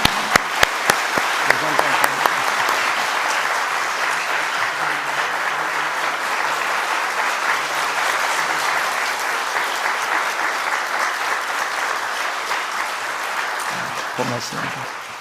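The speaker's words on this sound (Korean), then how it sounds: "하나님께 감사를 우리 위 목사님에게 수고하셨다 감사합니다 라는 박수를 한번 드릴까요?" Church congregation applauding after a Sunday worship sermon, steady sustained clapping from a large crowd filling the room for about fifteen seconds, with a few sharp claps at the start and faint talk underneath.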